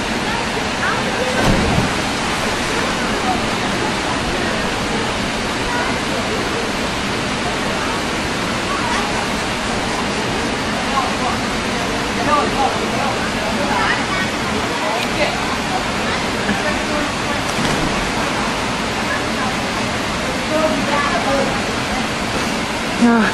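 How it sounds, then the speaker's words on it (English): A river waterfall roars as a steady, dense rush of falling water, loud and unbroken throughout, with faint occasional sounds mixed into the wash. "Oh, just chilling at the river. It's our falls."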